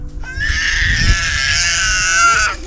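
A woman screams outdoors with a sustained, high, wavering cry that holds steady for over two seconds, loud and fairly close, with faint low background noise.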